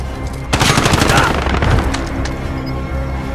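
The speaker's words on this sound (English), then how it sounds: "Precision airstrike down. ready for the gun run." Sustained burst of heavy automatic gunfire from an airstrike gun run in the video game Call of Duty: Modern Warfare, loud rapid shots with booming impacts rolling through, tapering to a lingering rumble.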